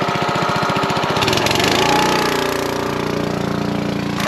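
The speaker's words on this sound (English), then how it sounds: "Let's get the pressure washer fired back up." A gas-powered pressure washer engine, used to clear clogs in an old drain pipe, runs loud and close with a steady mechanical drone; the pulsing sharpens briefly early on before settling into an even roar.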